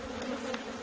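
Honey bees buzzing at a Michigan hive in spring, a dense, steady drone of many insects close up with a few louder passes.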